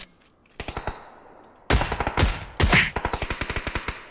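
Close bursts of automatic gunfire in the battle royale game PUBG on the Erangel map, with short rapid volleys, a brief pause, then several louder sustained sprays and a final string of evenly spaced shots.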